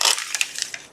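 Packing paper being crumpled by hand while crafting a card, a quick series of crisp rustling crackles, close and fairly loud, with no voices.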